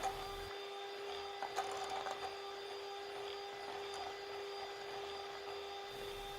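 An electric mixer at medium speed beating orange cake batter with an added egg gives off a steady, fairly quiet motor whine with a constant pitch, plus occasional light clicks of the beaters against the bowl.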